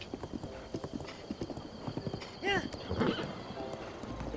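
Horse in Zelda: Breath of the Wild, galloping with steady clip-clop hoofbeats, then a clear neigh and whinny near the end, over a game soundscape with light speech-like sounds.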